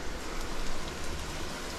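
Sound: rain falling

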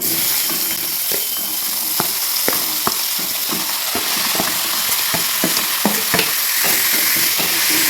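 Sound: spices sizzling in hot oil tempering

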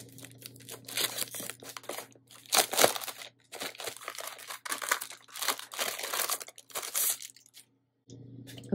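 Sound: crinkling plastic packaging being opened

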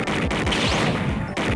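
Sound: gunfire in the video game Snatcher

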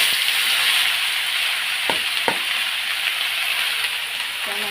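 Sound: ash gourd poured into sizzling oil with black cumin, dry chilli

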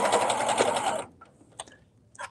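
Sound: sewing machine sewing a ribbed knit neckband

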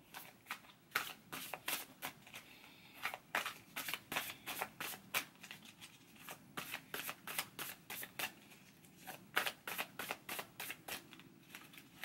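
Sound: shuffling astrology cards

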